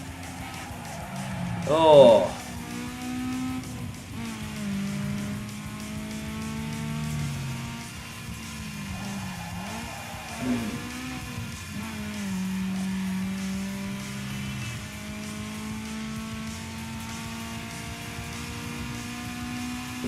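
A Honda Civic races through heavy traffic in Need for Speed Underground 2, its game engine droning steadily with rising revs beneath continuous talk from a man.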